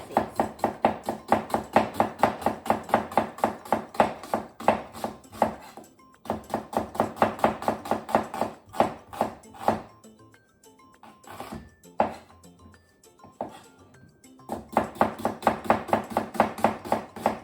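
Knife slicing kabocha squash into thin slices on a cutting board, a rapid steady series of sharp close chops in long runs, pausing briefly midway with a few scattered taps before the rhythm resumes.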